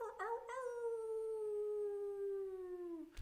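A person imitates a wolf howl with one long, sliding vocal cry that starts with a few yips and then glides steadily downward for about three seconds, close and moderately loud.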